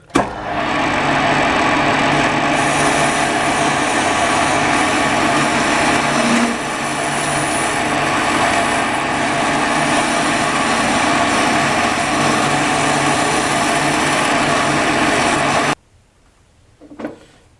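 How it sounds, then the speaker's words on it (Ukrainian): A loud, steady high-pitched whine of an angle grinder cutting runs for about fifteen seconds, close up, then cuts off abruptly into near silence. "підрізаємо трошки, а потім болгарку"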